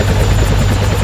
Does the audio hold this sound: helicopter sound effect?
yes